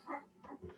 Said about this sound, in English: I'm sorry, the dogs.